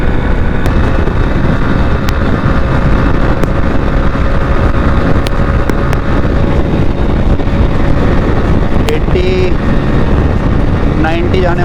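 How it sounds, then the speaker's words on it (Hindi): A Hero Splendor Plus BS7 2023 motorcycle runs at full throttle near top speed, a steady loud engine drone mixed with heavy wind rush throughout, with someone talking over it. "अभी मैंने बाइक का जो एक्सेलरेशन है वो पूरा मिला दिया"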